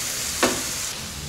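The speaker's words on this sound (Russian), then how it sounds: "будем уже скоро добавлять буряк, прожарим его" Beetroot for Ukrainian borscht frying in a pan: a steady, fairly close sizzle with a brief louder crackle burst early on, then an even hiss with no voices.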